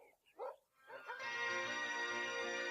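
Dogs in a children's audiobook sound effect give a quick yip or two, then a long, bright, drawn-out whine-like cry that holds steadily, fairly loud and close.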